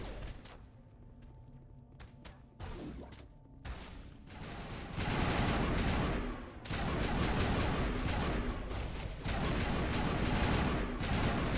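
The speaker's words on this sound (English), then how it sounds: "This thing shoots all over the place." Heavy, sustained gunfire in the sci-fi game Mass Effect 1, with scattered early shots building into long, loud continuous bursts with thuds, briefly easing before resuming.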